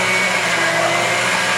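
A blender runs steadily at high speed, a dense continuous whirring roar with no pauses and no voices.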